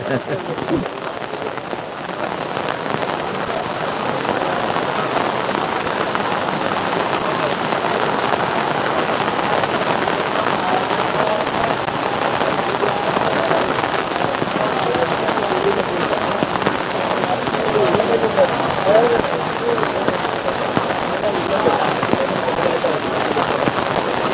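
Steady heavy rainfall at Kottiyoor temple makes a thick, even roar that holds constant throughout, close and loud, with a voice faintly present beneath it.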